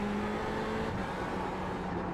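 Ferrari 488 GTE engine at Sebring in iRacing, a steady car drone with a faint tonal whine, held at an even level throughout with no talk.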